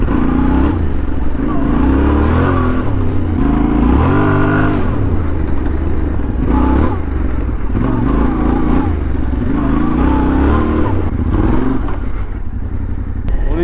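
A Yamaha R7 sport motorcycle with a full exhaust system growls loudly and close, revving up and down in repeated surges with a rough, deep exhaust note, echoing through a village.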